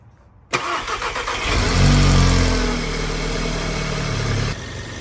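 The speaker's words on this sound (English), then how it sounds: "Now that your fuel system is primed, just go ahead and start the car." Audi S3 engine cranking and firing after a fuel pump rebuild: a sudden start, a brief rev that rises then settles into a steady idle, close by and alone.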